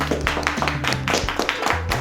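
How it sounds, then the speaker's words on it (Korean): An audience claps together at a Korean event announcement, a steady run of sharp close hand claps lasting the whole moment. "박수 주시죠"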